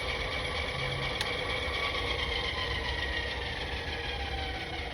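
Electric hub motor on a long-range e-bike spins freely under throttle with the wheel lifted, giving a steady whirring hum with a faint whine that holds evenly throughout.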